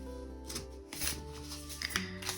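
A deck of cards being shuffled, with a few quick riffling bursts of papery flutter and snaps close up, alone and without talk.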